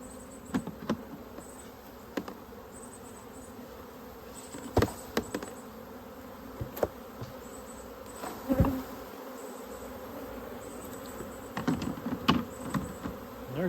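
Honey bees, mostly nurse bees, buzz in a continuous drone while frames are handled to stock mini mating nucs, with scattered knocks and taps of hive equipment breaking through at intervals and no talking.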